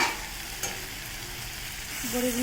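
Bori lentil dumplings frying in a pan over a steady, even sizzle, with a brief clink near the start and a faint tone toward the end, no talking.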